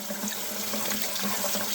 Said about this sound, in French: Après, vous prenez l'eau du robinet comme ceci.